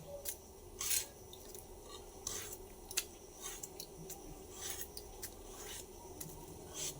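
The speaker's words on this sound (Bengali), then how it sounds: "এই যে কুমড়োটা কাটছি" A knife cutting through a pumpkin in a home kitchen while prawn curry cooks, giving soft scraping, rasping cuts at an irregular pace, fairly faint and close, with kitchen background noise and no talking.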